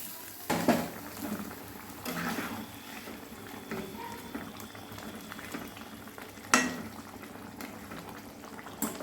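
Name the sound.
koi fish cooking in bubbling gravy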